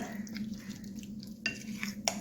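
Egg dosa batter being stirred and mixed in a bowl: soft scraping and clinking of a spoon against the bowl, with a couple of sharper taps, quiet and close under a steady low hum.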